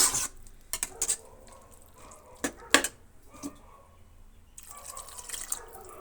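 Water is added to a pan of potato curry, producing scattered drips, splashes and light clinks of utensils against the pan over a quiet kitchen background.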